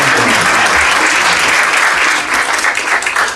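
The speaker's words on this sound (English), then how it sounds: "we give a round of applause to our panelists." An audience at an ophthalmology conference panel session applauds the panelists, a steady, loud burst of many hands clapping that holds throughout and thins slightly near the end.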